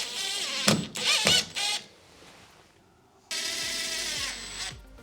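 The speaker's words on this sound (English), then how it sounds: "So I'm going to use these drywall screws and just screw them through into this" A power drill drives drywall screws into a cement brick layer in an old farmhouse under renovation. Two close, loud whirring bursts are separated by a short pause.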